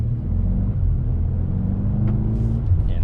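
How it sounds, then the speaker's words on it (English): Mercedes-Benz GLA 35 SUV exhaust in Sport Plus mode, a deep, steady engine rumble heard from inside the cabin while driving, with a faint higher burble near the end. "this thing just sounds amazing. I could drive this GLA 35 in Sport Plus mode all day because of that exhaust"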